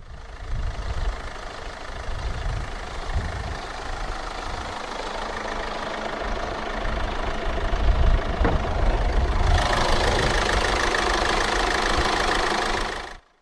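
A 2016 Kia Carens 1.7 CRDi 1.7-litre common-rail turbodiesel inline-4 idling after start-up, with a steady low diesel clatter and hum that grows slightly louder, then a bright hiss joining toward the end.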